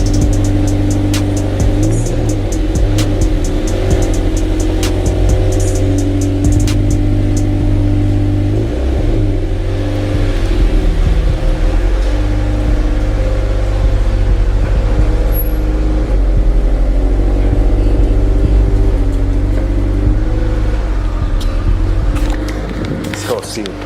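A Scion FR-S/Subaru BRZ with a Greddy SP Elite exhaust idles and revs repeatedly, a loud close engine note rising and falling in short blips over a steady low rumble.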